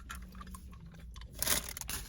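Close, wet chewing of a chewy White Rabbit matcha candy, soft mouth sounds and squishes with a louder crunchy burst near the end, no talking.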